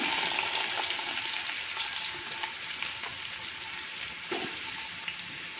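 Onions fry in a pan with cinnamon, cloves and cardamom for prawn biryani, making a soft, steady, even sizzle with faint occasional stirring.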